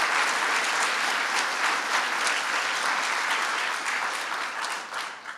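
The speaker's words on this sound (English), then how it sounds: "let's give Alfonso David and Steve Choi and Kathy Wild and Stuart Applebaum a big round of applause" Audience applause at a government announcement on an exploited workers task force, honouring several named officials; loud, close, continuous clapping from a large crowd that slowly thins and softens toward the end.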